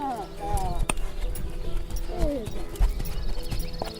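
Mérens and Castillonnais horses, two breeds of the Ariège Pyrenees, clop their hooves steadily, mixed with whinnies and rising calls and some speech, the hoofbeats close and busy throughout.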